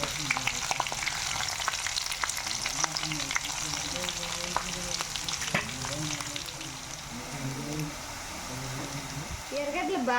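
Curry leaves and asafoetida tempering in hot oil in a pan, a steady crackling sizzle with occasional stirring clinks, while someone talks over it throughout.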